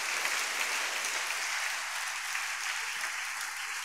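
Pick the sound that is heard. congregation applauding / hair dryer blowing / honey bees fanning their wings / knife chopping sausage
congregation applauding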